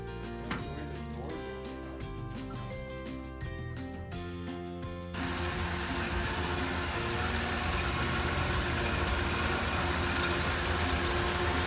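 The engine of a 1965 Chevy Sportvan runs with a steady hum for a few seconds, then swells into a louder, broadband roar that holds evenly to the end.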